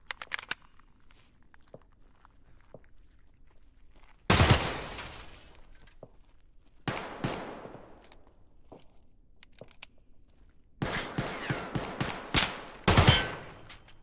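Several bursts of automatic gunfire from the shooter game Escape from Tarkov, loud and close, with a long fusillade near the start and more clustered volleys later, separated by quieter stretches of faint movement and footsteps.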